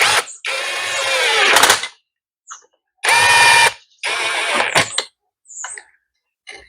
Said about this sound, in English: I'm going to use my drill just to snug them up